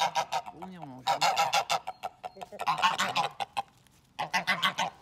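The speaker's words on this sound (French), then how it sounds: "On voit là d'ailleurs la première oie qui arrive, suivie de la deuxième pour venir manger." Farmyard geese come in to eat, honking loudly and repeatedly in irregular bursts close by, a few calls overlapping, with short quiet gaps between them.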